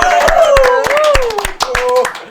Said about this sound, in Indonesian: Tepuk tangan lagi mungkin.